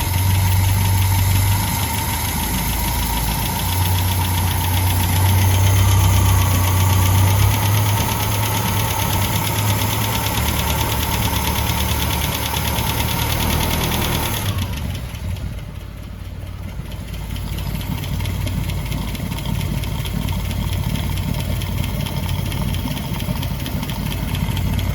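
A Land Rover Series 3 engine idles steadily while warming up, with a continuous close, loud, even mechanical rumble and light tappety rattle, alone without talk.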